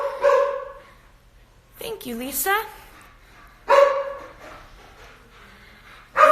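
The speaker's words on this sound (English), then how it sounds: "my dog is cute until she starts barking" A pet dog at home barks a few times, with sharp, loud, harmonic yaps spaced several seconds apart. A person's brief spoken words fall between the barks.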